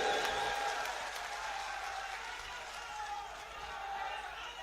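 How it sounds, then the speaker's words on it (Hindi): Crowd applause and general murmur at an outdoor political rally in Raghogarh, Guna, Madhya Pradesh, a steady wash of clapping from a large gathering that stays fairly even throughout, with a voice over a PA faintly underneath. "ताली बजाओ जोर से हिरेंद्र सिंह के लिए।"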